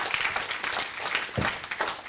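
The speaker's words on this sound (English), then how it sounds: "All right, give him a round of applause, guys." Applause from an audience at a monthly meeting, a steady burst of clapping that fills the room for about two seconds with no voices over it.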